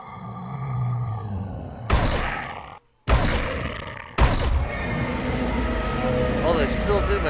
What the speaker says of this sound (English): they still do make the Godzilla sound when they die